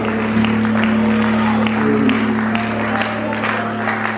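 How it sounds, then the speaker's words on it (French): A church congregation at a French-language assembly seminar applauds and cheers the Lord in a dense, loud, continuous wash of clapping and crowd noise under a steady low hum. "Est-ce que nous acclamons très fort le Seigneur? Acclame le Seigneur."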